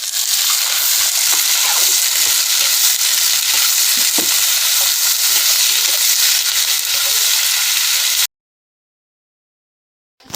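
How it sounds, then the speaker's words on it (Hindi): Chopped onion fries in a pan on low heat for chicken curry, making a loud, continuous sizzle with faint stirring that cuts off abruptly into near silence, then a brief bump at the end. "इसमें कटा हुआ प्याज डाल दीजिए और इसे कम आंच पर पकाइए"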